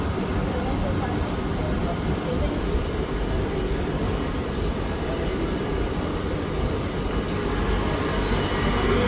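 A Qatar metro train pulls into an elevated station in Doha, a steady, loud rumble of wheels and motors filling the platform throughout, with a faint voice underneath.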